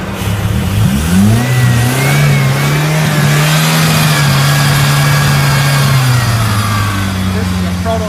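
A car engine fed on gas fumes through an improvised prototype hose setup revs up with a rising pitch, then holds a steady loud drone for several seconds before easing off slightly near the end.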